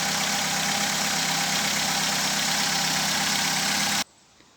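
The 1.2-litre petrol engine of a 2008 Vauxhall Corsa D idles with a steady, even drone close by, then stops abruptly, leaving near silence.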